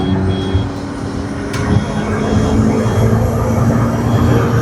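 A McLaren P1 hybrid supercar at speed gives a dense, continuous engine and turbo roar with wind and road noise, loud and unbroken from start to finish.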